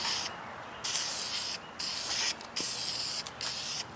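Bursts of spray paint hissing onto HMMWV Humvee soft doors, loud and close, in several long passes broken by short gaps.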